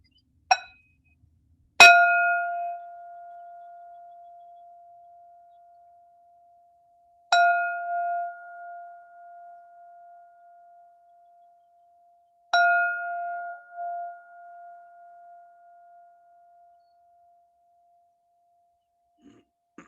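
Three strikes of a meditation bell ring out in a quiet room, each a clear metallic tone with a long, slowly fading sustain. A small click comes first, and near-silence falls between the strikes.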